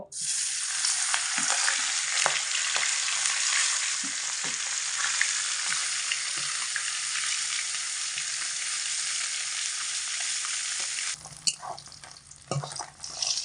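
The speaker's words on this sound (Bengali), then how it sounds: "তো এবার তেলের মধ্যে একে একে মাছের পিসগুলো দিয়ে ভেজে নেব" Fish pieces frying in hot oil in a wok for a curry with taro root, a steady loud sizzle crackling continuously for most of the clip with small spatters, then easing into quieter clinks and stirring near the end.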